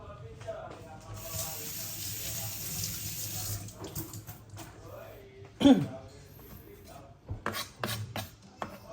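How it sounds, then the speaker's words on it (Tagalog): Tap water runs into a kitchen sink while raw pork for menudo is washed under it, a close steady splashing with clatters and knocks as the meat is handled, mixed with brief talk. "So pwede rin naman natin itong hugasan. Hugasan ko muna."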